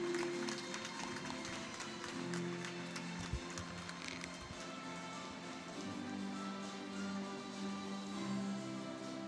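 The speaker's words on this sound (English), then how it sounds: "Please give them a big round of applause" Audience applause at a university's tenth-anniversary celebration, a sustained wash of many hands clapping at a distance, steady and fairly faint, with a few louder thumps in the middle.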